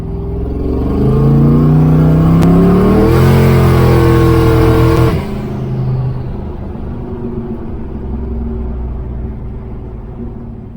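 A car's engine revs hard and accelerates with a rising, loud roar for several seconds, captured from a helmet camera inside the car, then drops back to a steadier rumble as it cruises.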